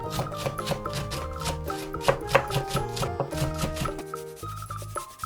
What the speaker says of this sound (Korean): 대파는 한 뼘 정도만 잘라주세요.